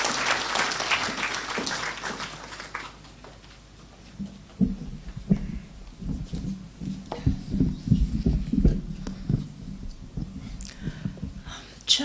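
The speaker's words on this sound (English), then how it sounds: "Let's welcome the peers with a good clap." Audience applause at a Meru University of Science and Technology congregation ceremony, loud and dense at first, then thinning into scattered claps and low room noise.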